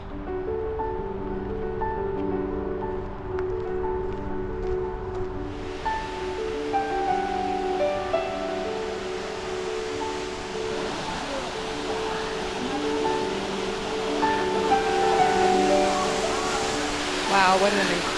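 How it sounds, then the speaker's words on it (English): A waterfall at Fowlers Campground in McCloud, California, in early August gives off a steady broadband rush that rises and stays constant after a few seconds, loud and close, with voices talking over it. "Apparently there's falls and you can get behind the waterfalls."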